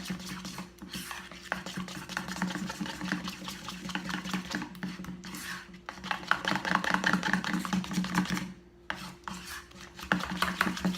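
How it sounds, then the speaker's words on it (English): A spoon stirring thick black bean brownie batter in a bowl to work out lumps, a steady close rasping, scraping churn that continues without a break. "I'll keep stirring it and trying to get these lumps out."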